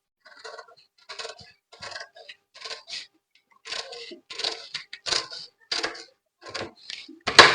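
Scissors cut through a paper bodice pattern for a girl's dress in a quick series of crisp, close snips, some single and some in short bursts, separated by brief quiet gaps.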